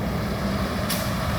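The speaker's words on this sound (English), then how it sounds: "here's a silica truck hauling silica through town right here" A silica-hauling truck rolls through a town street, its steady low engine rumble filling the short stretch at close range, with a brief burst of brighter noise near the end.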